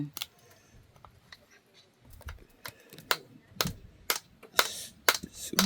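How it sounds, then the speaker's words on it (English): Knife cutting up a fish outdoors for a cookup: a series of sharp, irregular chopping and clicking strikes, close and fairly loud, with a little background noise between them. "Mother cut up a fish here. Now you cut it all, you know, mommy."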